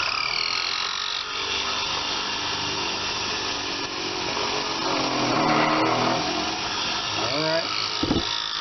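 A drill with a weakening battery runs continuously while machining the base of a steady rest, a steady whirring buzz that holds throughout and slows near the end, with someone speaking briefly.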